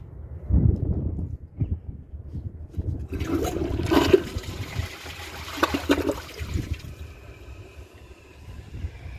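Glacier Bay 2015 ultra-high-efficiency toilet flushing a dish towel in a water-filled bowl: a loud rushing flush swells and gurgles for several seconds, then drains down into a softer trickle and refill hiss.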